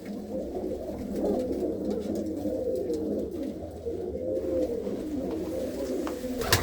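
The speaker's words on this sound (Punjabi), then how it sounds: "ਤੇ ਕਬੂਤਰ ਵੀ ਹਰ ਨਸਲ ਦੇ ਨੇ" A flock of pigeons of many breeds, some around fourteen or fifteen years old, coos in a dense, overlapping chorus close by, steady and continuous with no talking.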